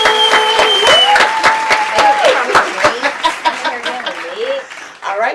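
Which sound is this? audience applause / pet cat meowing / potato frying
audience applause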